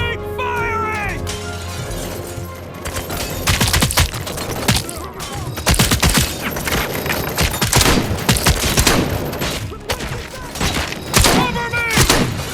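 Rapid bursts of gunfire in the RoboCop Rogue City video game, loud repeated volleys and sharp cracks over a busy mix of music and effects, with brief voices at the start and end.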